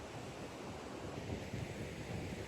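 Ocean surf and wind at a beach in Dapoli on the Konkan coast, a steady broadband wash of breaking waves with low wind rumble, continuous and fairly close, no voices.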